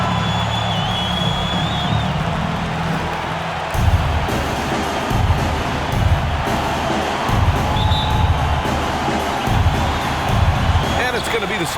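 Simulated arena crowd from an NBA 2K25 Knicks versus Spurs game, a steady roar of cheering and murmur with sneaker squeaks and ball bounces, lifting into louder swells partway through, with no commentary over it.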